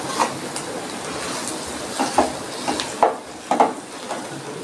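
Fried onion and boiled potato in a pan with turmeric and salt: a steady sizzle of frying under scraping and clinking from a spoon stirring against the pan, a few distinct knocks standing out.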